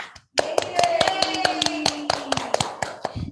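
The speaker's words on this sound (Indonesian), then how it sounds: "tepuk tangan dong buat Kak Zena" A young audience at a children's storytelling radio show claps for the child storyteller: a quick run of sharp, irregular hand claps, close and lively, with a faint voice carrying underneath.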